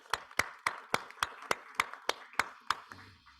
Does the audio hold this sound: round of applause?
yes